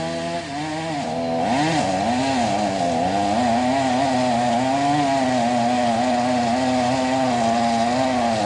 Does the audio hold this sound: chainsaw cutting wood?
yes